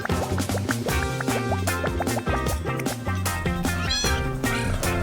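A cartoon kitten meows over loud, busy cartoon music with rhythmic beats and bouncy melodic notes, the meows blended into a dense, continuous soundtrack.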